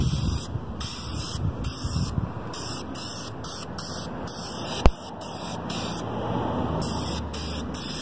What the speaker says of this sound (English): it's hard holding the camera and spraying at the same time.